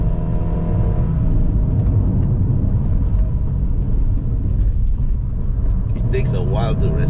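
A GAC GS3 SUV with a 1.5-litre naturally aspirated engine and six-speed automatic gearbox drones steadily while climbing a long hill road, a constant engine and road rumble filling the cabin under a voice talking throughout.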